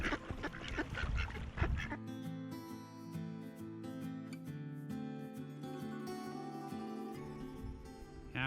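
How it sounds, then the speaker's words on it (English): Resident ducks near water at a trout-fishing spot, quacking in a few rough, close bursts at the start and end while music plays throughout. "Our resident ducks here."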